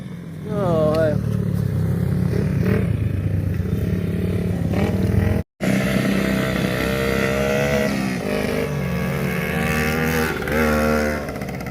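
Dirt bike engines revving and whining at a backyard track, rising and falling loudly throughout with a brief cut midway, while people talk over the noise.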